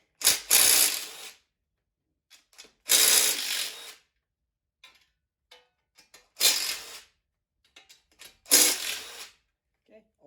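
Bolts or nuts are ratcheted out during a teardown of a 5.3 LS engine, four sharp bursts of rapid ratchet clicking, close and loud, separated by quiet gaps with faint handling clinks.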